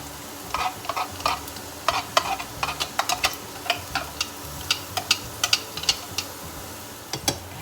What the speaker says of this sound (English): I'm going to fry the garlic first. Make sure that you fry it until it's golden brown.